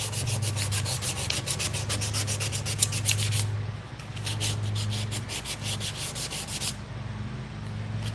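Rapid rhythmic scratching of sandpaper rubbed back and forth by hand on wood, close and steady, with a brief pause midway.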